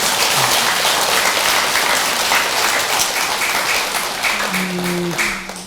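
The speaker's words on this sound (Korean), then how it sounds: "그래서 주지스님 계획대로 430평 이상 큰 법당을 짓도록 박수 한번 부탁드립니다." An audience at a Buddhist temple dharma ceremony applauds loudly and steadily, then the clapping fades toward the end.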